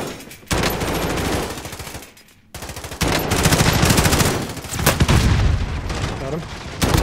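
Automatic gunfire in a first-person shooter video game: dense, loud bursts of machine gun fire and booms fill most of the stretch, with a short lull near the start, while players talk over it.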